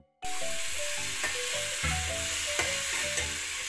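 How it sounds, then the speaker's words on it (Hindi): Pakoras fry in hot oil, a loud, steady sizzle that starts abruptly and continues close by, with occasional stirring sounds. "ये हमारे पकौड़े गए तेल में और हमारे पकौड़े हो गए तैयार।"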